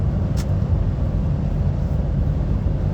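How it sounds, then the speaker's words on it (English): A car passes a lorry on a dual carriageway in Cumbria, heard from inside the cab as a steady low road and engine rumble that stays loud and even throughout. "this car's going to come past us"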